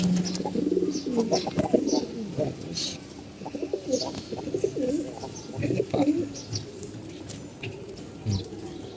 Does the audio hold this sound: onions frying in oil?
no